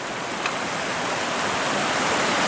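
Steady broadband rush of a river flowing in backcountry parkland, a constant close wash of water that swells slightly louder toward the end, heard alone with no talking.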